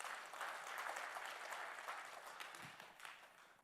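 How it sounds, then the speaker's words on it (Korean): An audience at an academic conference applauds a presenter, a thick crowd of claps filling the room, strong at first and gradually thinning and fading toward the end. "학술 발표를 해주신 손기원 사다헌 대표 교수님께 다시 한번 큰 박수 부탁드립니다"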